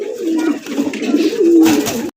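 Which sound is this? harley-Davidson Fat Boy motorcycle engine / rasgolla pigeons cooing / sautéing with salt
rasgolla pigeons cooing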